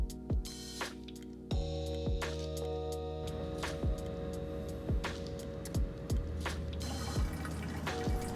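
Liquid hydroponic nutrient solution pouring into a garden water reservoir, giving a run of close, irregular drips and splashy plops over a steady trickling wash, with no talking.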